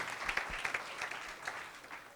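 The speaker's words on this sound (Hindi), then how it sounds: "ताली बजाए इस बेटी के लिए।" A church congregation at a Saturday satsang applauds for a girl, a short burst of scattered clapping heard at a moderate distance, thinning out toward the end.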